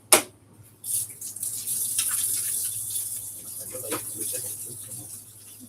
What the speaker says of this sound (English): We're going to wash our hands.